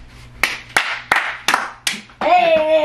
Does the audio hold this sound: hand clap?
yes